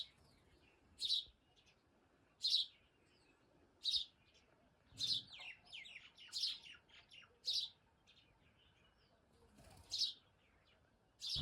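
Birds chirp and tweet in a rural village setting, with about nine bright, short bursts of song spaced a second or two apart, fairly clear over a quiet background.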